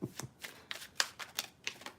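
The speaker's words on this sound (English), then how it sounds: "You mastered that riffle shuffle yet?" A deck of playing cards is handled and shuffled close up, with a series of short crisp riffling bursts and flicks at an uneven rhythm, fairly quiet and with no talk.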